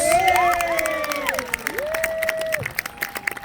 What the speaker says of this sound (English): Let's have a round of applause for all of our knights!